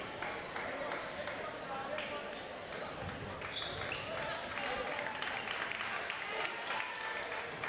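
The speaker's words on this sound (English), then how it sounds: "Zach Tomorrow heads to the bench, gets a big round of applause from the Milford crowd" A home crowd in a high school basketball gym applauds during a game, the clapping running under a commentator's voice, with sneaker squeaks and a ball bouncing.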